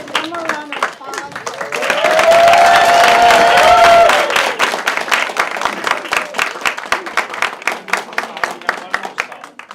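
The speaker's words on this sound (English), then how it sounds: "Let's give them a round of applause." A crowd applauds, with a short swell of cheering early on, then steady clapping that thins into scattered claps toward the end.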